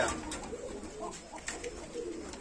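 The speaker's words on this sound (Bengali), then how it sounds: "এই যে দেখেন কবুতর" Pigeons coo softly at a pigeon farm in Muradnagar, Comilla, a faint low burbling that runs steadily under a quiet background hum.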